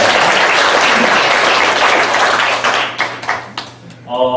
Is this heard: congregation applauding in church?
yes